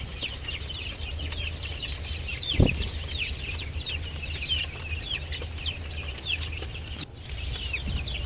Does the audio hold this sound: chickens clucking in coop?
yes